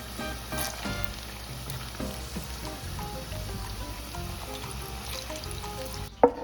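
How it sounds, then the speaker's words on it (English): Green and ripe plantain slices fry in hot oil for trifongo with a steady, dense crackling sizzle close by. A sharp knock sounds just before the end. "And now we're going to fry our plantains."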